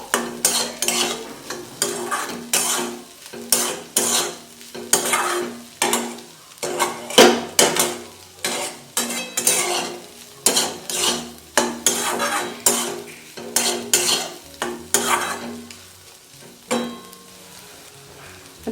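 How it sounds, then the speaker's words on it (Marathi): Egg bhurji with butter stirred in a pan, a steady run of scraping and clinking strokes of a utensil against the pan over a soft sizzle, close and fairly loud, with no talk. "यामध्ये आता आपण बटर टाकून व्यवस्थित असं मिक्स करून घेतलेलं आहे"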